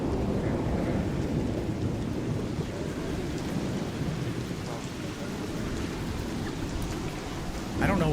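Thunderstorm in the video game ARC Raiders, a heavy steady rumble of thunder and rain at fairly loud volume, with faint voices in the background.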